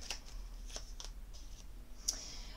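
Oracle cards being shuffled for a reading, several quick, soft riffling flicks and papery slaps close by in a quiet room, spaced irregularly over a few seconds.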